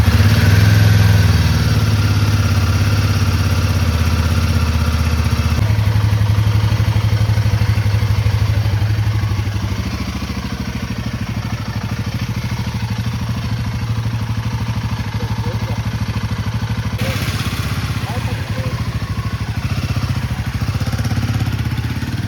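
A motorcycle rides on an open road toward Hosur, its engine a steady mid-pitched drone mixed with wind rush, loud and continuous with a slight drop in tone partway through and no talking.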